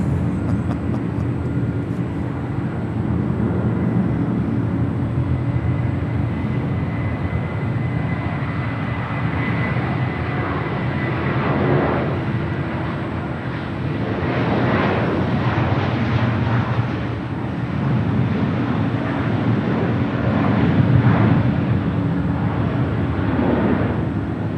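Airliner engines roaring at Los Angeles International Airport as a jet prepares for takeoff on runway 25 right, with a loud, steady rumble that swells slightly toward the end.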